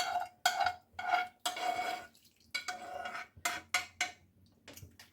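A spoon scrapes and clinks against a metal frying pan in a series of short strokes, close by, with a soft sizzle underneath, stirring borscht ingredients with broth.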